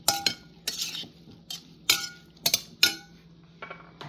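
Utensils clink against a bowl while a mango and avocado salad is tossed, giving a series of sharp, fairly quiet metallic taps at irregular intervals, with no talking.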